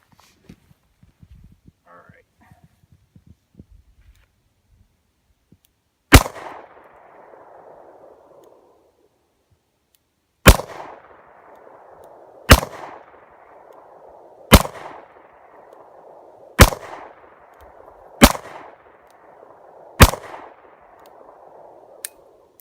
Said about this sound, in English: So we'll take some shots with this and let you know what we think.